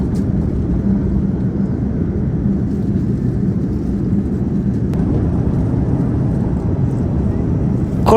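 Steady low roar inside a Dreamliner airplane cabin during heavy turbulence over the sea near the Philippines, a constant dense engine and airflow rumble with a faint knock or two, no voices.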